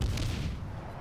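Battleship main guns firing shells in the naval combat game World of Warships, a single deep, booming blast that rolls off into a rumbling tail, heavy and dull.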